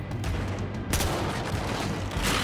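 Sustained gunfire in Battlefield Hardline, loud and continuous, with rapid shots and a heavier blast partway through, no voices.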